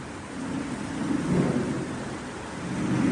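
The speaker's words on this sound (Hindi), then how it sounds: "बहुत तेज बिजली कड़की" A loud, close thunder rumble swells and rolls over steady heavy rain during a storm near a temple courtyard, with no voices.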